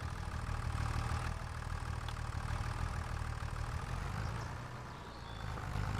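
A John Deere tractor with a front loader idles in Farming Simulator 25, a steady low diesel rumble that holds constant and fairly loud throughout, easing slightly for a moment near the end, with no talking.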